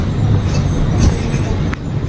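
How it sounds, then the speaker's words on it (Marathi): A low, steady engine rumble from a local bus climbing a winding ghat road, a heavy drone with road noise that stays constant through the short stretch. "ही आहे आमची बस, लोकल बस"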